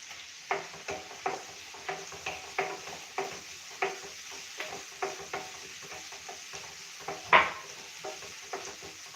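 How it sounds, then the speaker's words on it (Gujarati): Onions sauté in a pan over a gas flame: a gentle frying sizzle runs under rhythmic scraping strokes of a spoon, roughly one every half second, with one louder clank near the end. "ડુંગળીને આપણે એકદમ સરસ સોતળી લેશું ગેસની ફ્લેમ થોડીક ફાસ રાખીશું"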